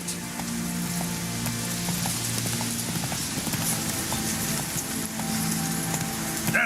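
Roach the horse trotting in The Witcher 3, a steady clip-clop of hooves moving through a dense game soundscape with a patter like rain underneath, continuous and fairly loud with no talk.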